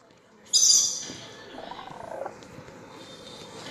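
A cat in Minecraft gives a short purring, trilling sound over a constant busy game background, fairly faint and heard alone.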